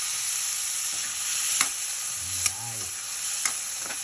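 Chopped tomatoes sizzle in hot oil in a frying pan for spicy squid adobo, a steady loud frying hiss with a few sharp stir clicks, and a voice briefly speaks over it.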